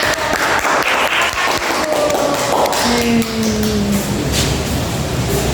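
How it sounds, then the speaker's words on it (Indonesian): Students in a classroom give a round of applause, dense and steady for several seconds, with scattered clapping carrying on as it fades. There is no clear talk. "Oke, beri tepuk tangan sekali lagi."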